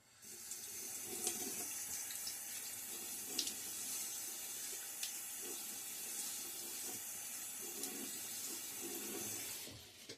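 Water runs steadily from a bathroom tap as someone wets their face before a shave, a continuous close hiss with faint splashes, no talking.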